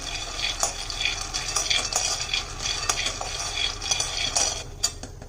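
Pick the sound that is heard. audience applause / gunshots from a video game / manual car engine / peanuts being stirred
peanuts being stirred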